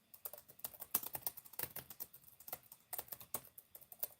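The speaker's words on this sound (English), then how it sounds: "Are the typing sounds coming through?" Typing on a computer keyboard during a quiet breakfast ASMR session, soft close key clicks in irregular bursts and rapid runs, with no talking.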